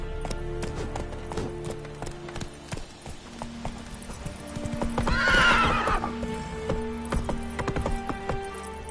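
A horse from the game The Witcher 3 gallops with a fast, continuous clip-clop of hooves, and a loud, close neigh rises midway over the running hoofbeats.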